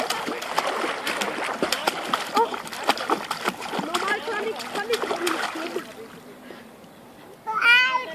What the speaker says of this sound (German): Okay, jetzt schwimme ich mal ganz normal.